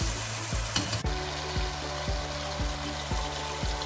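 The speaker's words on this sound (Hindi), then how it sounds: "आप इसको मिक्स कर दें और इसको अच्छी तरह भून लें। ठीक है, मीडियम तेज फ्लेम के ऊपर।" Zucchini masala sizzles loudly in oil over a medium-high flame while a spoon scrapes and stirs it in a pan, steady frying hiss punctuated by regular stirring strokes, close and without talk.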